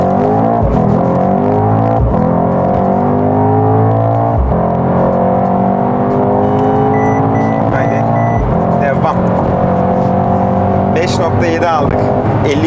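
A Mercedes-AMG GT63 accelerates at full throttle, its engine note climbing loud and close through several rising sweeps with brief dips at each gear change, while a voice speaks over it inside the cabin.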